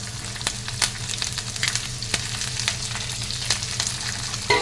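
Onions, garlic, green chillies and curry leaves fry in a pan with a continuous close sizzle, sprinkled with sharp pops and crackles and occasional stirring, and no one speaks.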